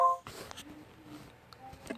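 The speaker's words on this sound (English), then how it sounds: "If you guys heard that, that was probably like a little ping." A short electronic notification ping opens, a brief clean tonal beep, followed by quieter scattered game sounds and clicks at low level.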